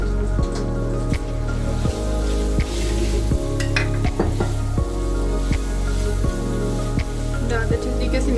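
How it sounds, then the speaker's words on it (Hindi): Tikka masala frying loudly in a pan while a spoon stirs it in steady, repeated strokes, with a continuous sizzle and rhythmic scraping throughout. "अब हम टिक्का मसाला डालकर 10 मिनट के लिए फ्राई कर लिया, अच्छे तरीके से भून लिया इसे"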